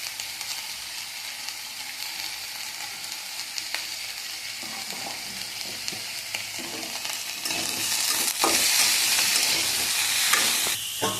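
Oil in a pan sizzles steadily with turmeric and salt added while a spatula stirs and scrapes the frying mixture, before bathua greens go in; a continuous hiss grows a little louder toward the end, with no talk.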